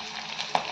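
Onion and capsicum frying in a pan for restaurant-style paneer chilli, a brief, faint sizzle with a small pop of spattering oil.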